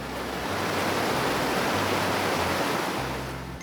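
River water flows in a dense, steady rushing roar, loud and close, with a low rumble pulsing underneath.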